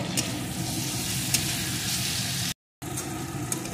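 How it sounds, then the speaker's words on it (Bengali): Cumin paste frying in oil in a pan, a steady close sizzle with faint stirring ticks, broken by a brief gap of silence before it resumes. "এখন আবারও একটু ভেজে নেব।"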